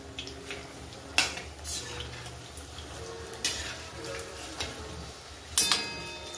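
Homemade patties frying on low heat in an oil-filled pan and being turned over, with a faint background sizzle broken by several sharp metallic clinks and scrapes of the spatula against the pan.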